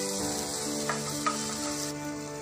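Masala spices, with a pinch of black pepper, sizzle steadily in a pan for dry masala Maggi. A couple of soft stirring scrapes cut through the close, continuous frying hiss, with no voices.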